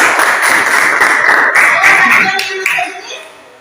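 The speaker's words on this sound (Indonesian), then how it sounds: "tepuk tangan untuk yang nonton" Clapping hands in a classroom during a lesson, a short burst of scattered claps with children's laughter and chatter mixed in, fading out toward the end.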